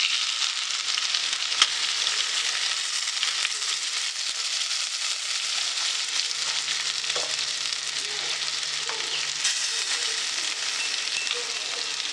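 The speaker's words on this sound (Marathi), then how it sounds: "आता आपण ते पलटी करून घेऊया" Makla squid sizzles steadily in a frying pan as seafood fry cooks, a continuous close hiss with a few faint clicks of the pan and no talk.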